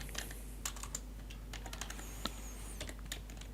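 Computer keyboard typing while a field name is entered in a Microsoft Access database: quiet, irregular keystroke clicks in short bursts with brief pauses, close by, with no voice over them.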